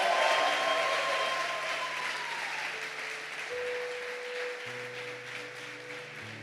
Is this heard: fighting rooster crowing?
no